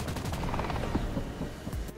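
Gunfire in War Thunder as a player shoots at a target: quick bursts of automatic fire, fairly faint, with a low mechanical hum underneath.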